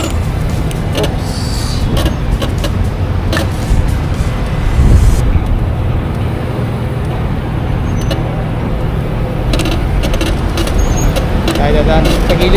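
Heavy traffic streams through a stoplight intersection on a main road at night: a steady, loud rumble of passing cars and buses with occasional hisses and swells, and people talking close by over the din.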